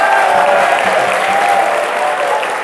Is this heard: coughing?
no